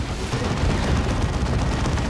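Double Carnifex venom cannons firing in a Warhammer 40,000: Dawn of War 2 3v3 battle, a dense, loud barrage of booming, gunfire-like blasts that rumbles on steadily without a break.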